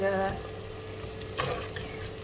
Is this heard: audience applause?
no